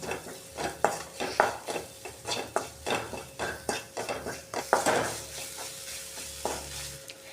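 Spice masala with onion and salt being sautéed in a hot pan for broccoli poriyal, a rhythmic series of close, distinct spatula scrapes and stirs over a low sizzle, with no voices.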